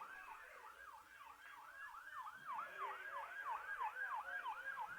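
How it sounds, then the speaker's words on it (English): An ambulance siren wails in a repeating up-and-down pattern as it passes a ballpark in Mandan during a Class B Legion baseball state tournament game, heard from a distance under faint ambient crowd noise with no talk. "Ambulance going by the ballpark here in Mandan."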